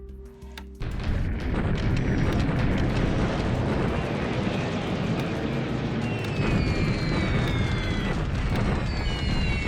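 Anti-aircraft flak fire from a WWII strategy video game rumbles as a dense, continuous roar of booms and bursts, loud and sustained after a brief quieter start, with no talking.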